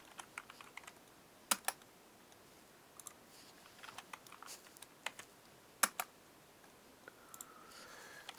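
Numbers are typed on a computer keyboard in a quiet room, faint scattered key clicks in irregular bursts with a few sharper, louder taps.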